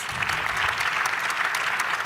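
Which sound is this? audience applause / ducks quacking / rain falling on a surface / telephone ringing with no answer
audience applause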